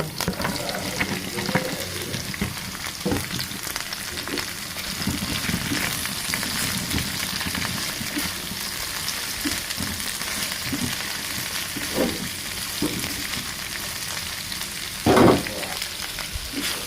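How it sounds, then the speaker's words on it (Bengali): Sliced okra sizzles in a pan of spices, with steady frying crackle and repeated scraping stirs of a utensil throughout, close and moderately loud, no talking. "এখন এর ভেতর আমি ঢ্যাঁড়সগুলো দিয়ে দেবো কিছু"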